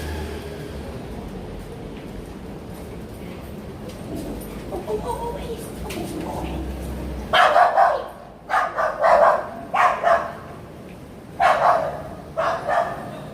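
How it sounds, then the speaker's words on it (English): Dogs in a New York City park bark at each other, a series of loud, close barks in bursts after a stretch of quieter outdoor ambience with faint murmur. "We will not focus on dogs barking at each other."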